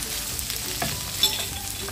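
Mushrooms frying in a pan while making a creamy carbonara, a steady close sizzle with a faint stir or scrape partway through.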